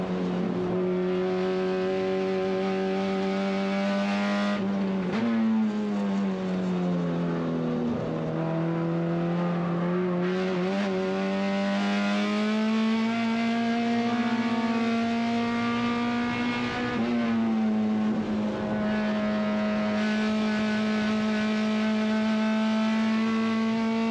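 Honda Civic SuperTouring race car at full throttle around Mid-Ohio, its engine note loud and continuous with steady high revs, brief lifts and gear changes, and a slightly rough tone from a failing engine.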